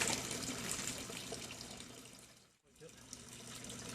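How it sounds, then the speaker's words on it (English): Water is poured into a planting hole while a tomato is transplanted in a garden, making a steady, soft splashing flow that briefly stops and then resumes. "Fill the hole with water."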